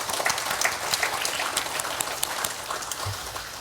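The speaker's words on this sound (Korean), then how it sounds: "격려의 박수 한번 드리겠습니다." A church congregation at an evening service applauds in encouragement, a steady wash of many hands clapping, moderately distant and fairly faint, continuous throughout without talk.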